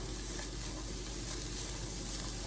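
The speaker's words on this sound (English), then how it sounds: "I'm adding the shredded carrots and the celery. And I'm gonna go ahead and mix well." Shredded carrots and celery stir-fried with ground turkey in a hot pan give a steady, dense sizzle with faint stirring scrapes throughout, close and continuous, with no voices.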